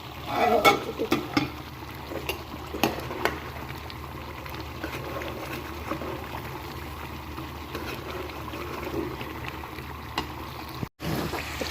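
A dish fries in a kadhai as it is stirred, with soft sizzling underneath scraping and clinking of the spoon against the pan, strongest early on and then settling into a quieter bubbling fry.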